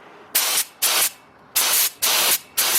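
A paint spray gun set to a wide fan pattern sprays in five short, even hissing bursts, each about a quarter second long with brief pauses between, close and fairly loud with no talking.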